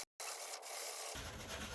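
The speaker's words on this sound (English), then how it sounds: "we're just sanding off the bottom of this wing now" Sanding the underside of a Cessna aircraft wing produces a steady, close abrasive rasp that cuts out briefly near the start, then resumes and grows rougher toward the end.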